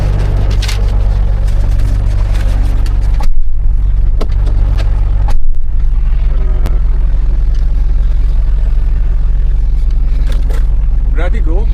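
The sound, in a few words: truck engine as driver starts the trip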